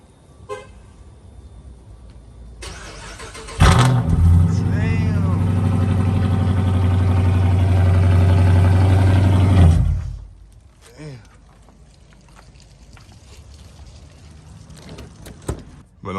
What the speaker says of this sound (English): I'll get y'all a little cold start